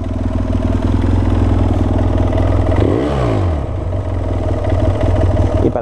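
A BMW F800 ST twin-cylinder motorcycle with an Arrow exhaust idles close by with a steady, throbbing note, broken by one quick rev blip midway before it settles back to idle.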